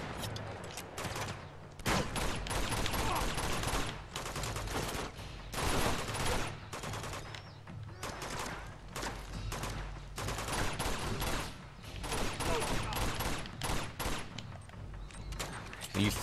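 Gunfire fills a firefight in Uncharted 2: Among Thieves Remastered, with dense, loud bursts of shots and rapid fusillades repeating almost without pause over a constant low rumble.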